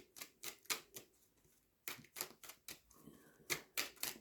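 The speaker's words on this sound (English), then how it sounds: "I do have to actually shuffle this because I need the crossing card." Tarot cards are shuffled by hand in rhythmic bursts of quick papery slaps, pausing briefly in the middle before resuming, close up.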